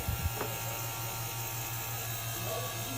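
A vacuum pump evacuates a car's air conditioning system with a steady, low electric hum and buzz that runs unchanged through the whole stretch.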